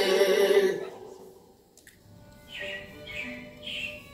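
Robins chirp in a staged Carousel of Progress animatronic show, three short bright tweets in a row after the music fades, mid-distance and fairly soft.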